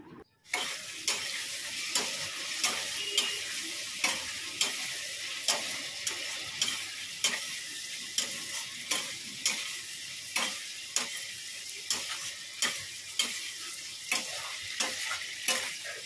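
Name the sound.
sautéing spice paste with salt, turmeric, Kashmiri chilli, cumin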